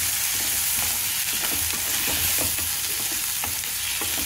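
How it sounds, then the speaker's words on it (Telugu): Ginger garlic paste being stirred into onions that are frying golden brown, giving a loud, dense close-up sizzle with soft scraping strokes of the spoon throughout. "ఇందులో కొద్దిగా అల్లం వెల్లుల్లిపాయ పేస్ట్ వేసుకొని బాగా కలుపుకోవాలి"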